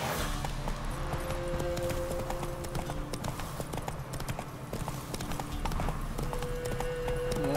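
Steady clip-clop of horse hooves as a mount walks along in The Witcher 3: Wild Hunt, with even, close hoofbeats over a faint game soundscape.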